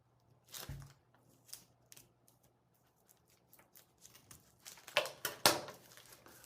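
Scissors snip through the mesh backing of a floor heating mat in a series of sharp, close cuts with rustling between, growing louder toward the end.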